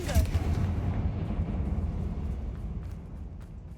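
A Confringo fire spell blast in Hogwarts Legacy opens with a sharp burst, then a rumbling explosion fades out over a few seconds.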